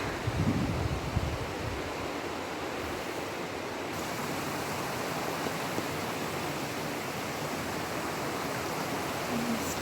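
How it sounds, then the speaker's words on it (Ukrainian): A fast mountain brook in the Zakarpattia Carpathians near the Hirska Tysa sanatorium spills straight into a river, giving a steady, close, full-bodied rush of water that stays even throughout with no voices. "Ось з гір такий струмочок стікає прямо в річку"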